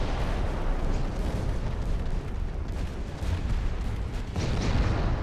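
Continuous naval gunfire from battleships in the Ultimate Admiral: Dreadnoughts game, a dense rumbling wash of booms and blasts that stays loud throughout with no clear pauses.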